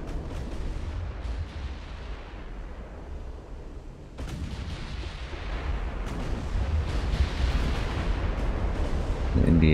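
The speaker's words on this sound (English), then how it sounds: "On our side is taking a lot of gunfire" Heavy, booming naval gunfire from battleships in the video game Ultimate Admiral: Dreadnoughts rolls on continuously, with layered blasts and a thick low rumble that grows louder toward the end.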